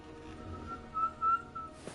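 A character in the video game Wuthering Waves whistles a short, thin melodic tone that wavers and swells briefly, clear and alone against a quiet background.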